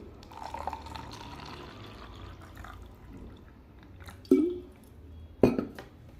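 Water splashes into a glass with a soft rising gurgle, followed by two sharp clinks of glass.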